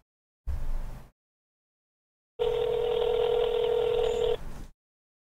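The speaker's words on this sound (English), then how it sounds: "That's my answering machine, man." A phone on speakerphone plays an answering machine greeting: a short burst of sound, a pause, then a loud steady electronic tone lasting about two seconds before it stops.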